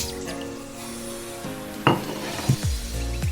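A fish curry mixture of tamarind, tomato, masala and salt is stirred in a cooking pot, with a soft sizzle and scraping, and a few sharp clinks of a spoon against the metal near the end.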